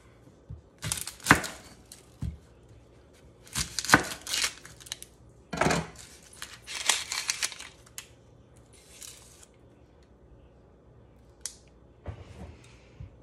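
A knife cuts an onion into wedges on a board, in short bursts of crisp slicing and crunching separated by quiet pauses, close and fairly loud.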